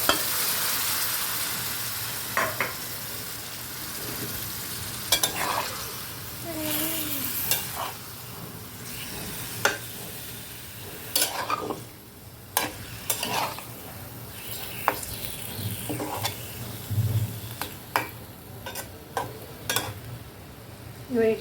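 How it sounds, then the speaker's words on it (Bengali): Fish fries in a pan and is stirred, giving a steady moderate sizzle broken by repeated scraping and clacking strokes of a utensil at irregular intervals over about twenty seconds. "ঠিক আছে, ফিশগুলো দিয়ে দিচ্ছি।"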